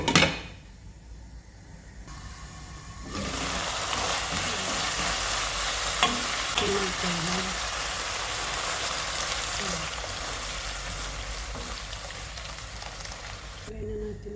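Seasoned lasagna sauce is stirred in a frying pan, giving a steady close scraping and sizzling that runs continuously for most of the stretch, with a few soft clicks of the utensil against the pan.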